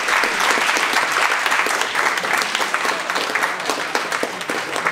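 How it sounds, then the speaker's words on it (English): Sustained applause from the audience at a youth basketball summer camp awards ceremony, honoring the coaches; dense, steady clapping fills the room throughout without talk. "So another round of applause for the coaches."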